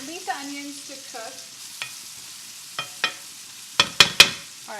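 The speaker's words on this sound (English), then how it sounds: "so we'll leave the onions to cook" Onions cooking in a pan for a fish curry, a soft steady sizzle punctuated by several sharp clinks and scrapes of a utensil, increasingly frequent toward the end, close and alone.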